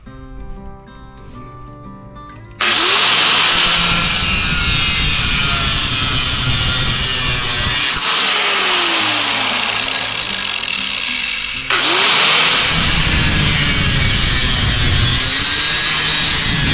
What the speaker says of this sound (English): Now I got to cut a joist hanger